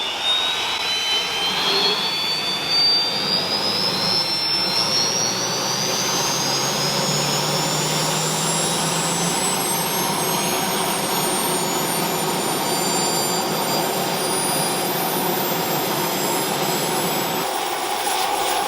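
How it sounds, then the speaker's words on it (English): A turbine engine on a Turbine Thunder Mustang aircraft runs steadily at loud, close range, a continuous roar with a rising high whine that holds throughout, with no talking. "watching Quentin do more engine starts meant more opportunities to watch how he starts the engine"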